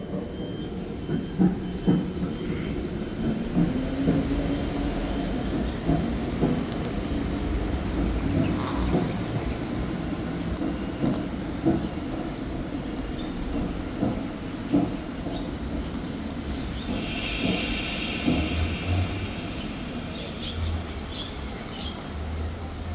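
A handmade sound effect imitating a steam train, rhythmic chugging with a continuous rumble and recurring puffs and clanks, steady and fairly loud with no voices.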